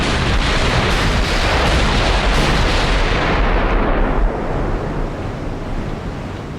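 Naval artillery in the Ultimate Admiral Dreadnoughts battleship game, with 14-inch guns on the battleships Nevada and Idaho firing at a German fleet: a continuous dense roar of heavy booming gunfire, loud and close, that eases slightly toward the end.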